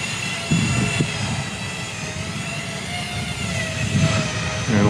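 An EMAX Tinyhawk II FPV drone flies in wind, giving a steady, loud buzzing motor whine with a broad rushing noise layered over it, swelling slightly at moments and holding on without a break.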